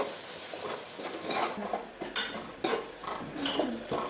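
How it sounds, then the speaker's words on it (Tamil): Tomatoes being stirred into onions in a pot for country-chicken biryani, with repeated spoon scrapes and clanks against the metal over a faint background sizzle. "தக்காளி சேர்த்து நல்லா வதக்கிக்கிறேன்."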